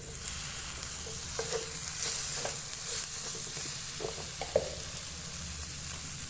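Cumin and coriander powder frying with chopped tomato in a pan, a steady close sizzle broken by scattered stirring scrapes and clinks, with no talking.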